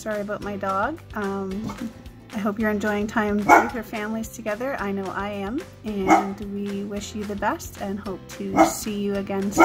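A dog barks repeatedly, loud and close, in a home, with the barks coming in bursts over a person speaking a friendly greeting.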